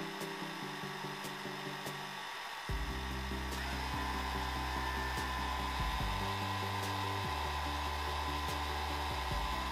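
A 300 W hair dryer runs with a steady whirring hum, stepping up to a louder, fuller drone after a couple of seconds and then holding that level.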